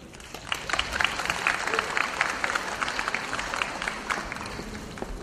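An audience claps at a ceremony marking Disability Day as two plaque recipients are honored, a sustained burst of many hands clapping, fairly close and lively, with a murmur of voices beneath.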